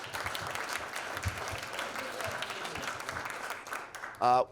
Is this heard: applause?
yes